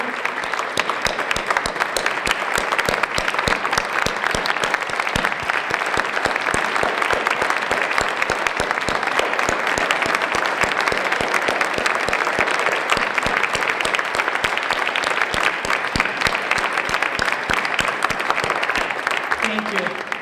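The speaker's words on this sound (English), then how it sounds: "Will the faculty rise so we can applaud you?" Sustained applause from an audience at a 50th anniversary celebration honouring faculty, dense clapping that stays loud and even for the whole stretch, with a few voices mixed in.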